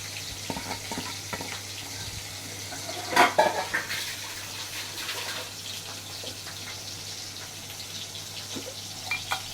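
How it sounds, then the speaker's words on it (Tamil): Cooked dal pours into a pot of frying onions for sambar rice, giving a wet, splashing sizzle that swells briefly and then settles into a steady simmering hiss, close by with no voices. "இப்போ அதையும் அதில் ஊற்றிட போகிறேன்."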